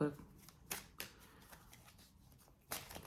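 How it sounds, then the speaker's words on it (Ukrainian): Quick riffling tarot card shuffles come in a few short bursts, close and crisp, with soft talk and handling noise in between. "карти перегорнулися під час стосування"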